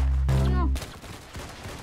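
Gunfire from the Roblox shooter game Arsenal: a short voiced sound comes first, then a sharp, loud shot bursts out and a softer second report follows about half a second later.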